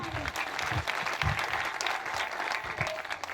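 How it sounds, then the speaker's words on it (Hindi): An audience at a community gathering claps together in a sustained burst of applause that stays dense and even for the whole stretch, with no pauses. "लगा दो एक ताली"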